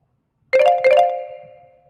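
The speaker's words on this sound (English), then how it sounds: "Damn, that's my bell." A bell-like chime strikes twice in quick succession, each ring bright and tonal, then the sound hangs and fades slowly over about a second, alone against silence.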